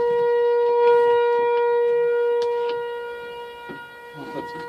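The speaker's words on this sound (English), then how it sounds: "fire or tornado siren?" A fire or tornado siren wails outdoors with a sustained, steady tone that slowly fades, accompanied by scattered nearby clunks and rustles of work on a pickup truck's rubber-sealed back window.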